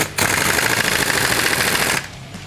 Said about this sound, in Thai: ใช้บล็อกลมยิงครับ